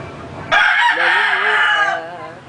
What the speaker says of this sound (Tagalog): Ang ibon. The bird.